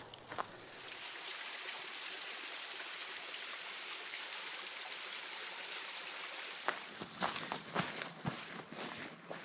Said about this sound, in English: we can hear the water, but we can't see it